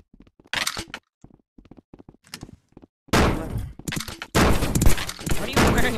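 Gunfire in the video game Rec Room: a scattered series of short sharp shots, then a dense, louder burst of rapid firing with thuds near the end.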